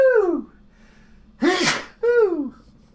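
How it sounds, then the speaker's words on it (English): A man gasps with a rising breath, then lets out a sharp, noisy sneeze followed by a falling exhale, all close to the microphone in a quiet room. "I got to sneeze."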